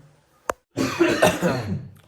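A single sharp cough, then a longer, rougher burst of coughing close by in an otherwise quiet room.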